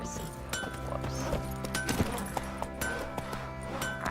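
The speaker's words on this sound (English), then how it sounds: "That horse is in the way, my horse is stuck." Horse hooves clopping steadily in The Witcher 3 video game, with a whinny rising among the hoofbeats; game sounds and a voice sit under the steady trotting rhythm.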